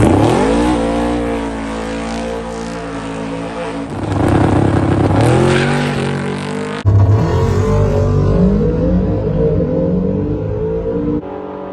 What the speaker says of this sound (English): NSX, twin turbo. Red NSX versus black and red 55.